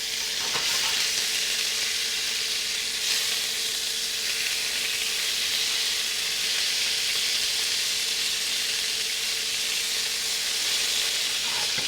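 Lamb browning in a hot pan on a cooktop gives off a loud, continuous close sizzle and hiss that holds steady throughout, with no voices.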